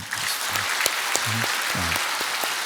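An audience in a church claps for the chamber orchestra members at a Christmas service, a dense burst of steady applause with low tonal sounds underneath.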